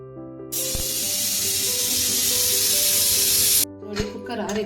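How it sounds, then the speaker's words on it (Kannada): A pressure cooker on a stove cooking a double beans gravy lets out its whistle as a loud, steady rush of hissing steam that starts abruptly, holds for about three seconds and cuts off, followed by faint clatter. "ಈಗ 1 ವಿಸಲ್ ಹಾಕಿಸ್ಕೊಳ್ಳೋಣ."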